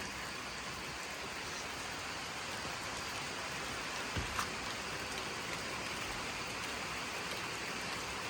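Heavy rain pours steadily on a rubber plantation in Thailand, a dense, even hiss close by. A couple of faint knocks break through near the middle.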